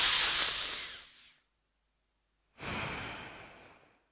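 Two long nasal exhalations during a yoga breathing exercise, each a soft breathy rush lasting over a second, separated by a silent pause, close and fairly quiet with no talking.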